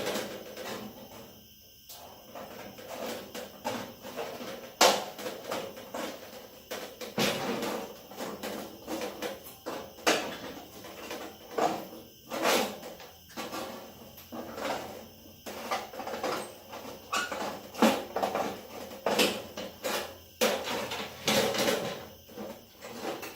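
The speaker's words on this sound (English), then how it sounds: "we'll be using our snips to cut our tabs before we start with the grinder" Snips cut metal tabs for a fire pit, a series of sharp close metallic clips and clanks at irregular intervals over a quiet workshop background.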